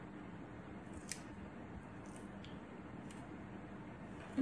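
Scissors trim a small stamped paper piece in a craft room, making several faint, quiet snips spaced about a second apart against a low background hum.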